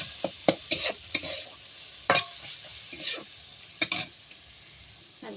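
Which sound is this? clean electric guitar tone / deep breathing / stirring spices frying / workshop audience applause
stirring spices frying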